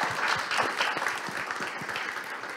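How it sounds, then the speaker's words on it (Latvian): Conference audience applauding a speaker being introduced at a Latvian youth politics discussion, a dense, even patter of many hands clapping that holds steady throughout. "Aplausi."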